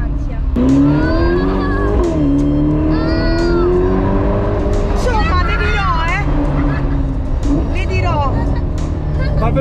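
Car engine droning steadily while driving, with rising and falling tonal whine and revving, loud and close throughout, with voices talking over it.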